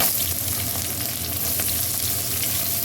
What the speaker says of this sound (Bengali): এখন আমি এক এক করে সব ছেড়ে দেবো। পেঁয়াজ কুচি দিয়ে দেবো,